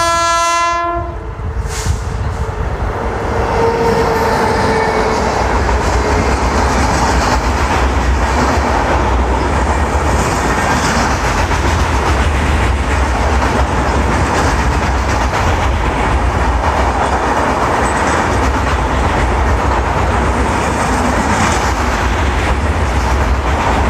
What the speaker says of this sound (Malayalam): ദൂരെ നിന്നൊരു ട്രെയിൻ വരുന്ന സൗണ്ട് കേൾക്കുന്നുണ്ട്